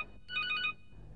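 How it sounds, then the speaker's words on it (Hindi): A phone ringtone in a stage comedy sketch gives one short, bright electronic melodic burst. It rings clearly and fairly close over a low room murmur, with no talking. "देखो ना किसका फोन है"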